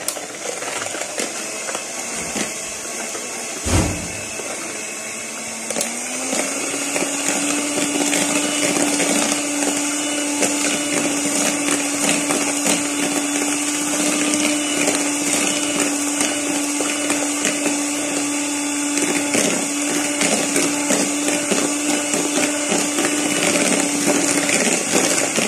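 Electric hand mixer beating butter and sugar for crisp-outside, soft-inside cookie dough, a steady whirring motor drone that starts after a brief clunk and runs continuously and close, with no talking.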